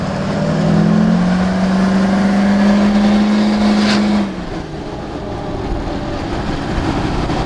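A Duramax diesel-engined, gutted Humvee drives off-road, its engine a steady loud drone and rumble that drops to a lower idle-like hum about two-thirds of the way through, heard close up without talk.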